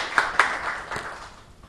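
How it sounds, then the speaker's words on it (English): Audience at an opening ceremony clapping briefly, with a few sharp claps standing out before the sound fades quickly. "Round of applause, please, as he approaches."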